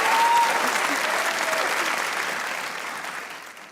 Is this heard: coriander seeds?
no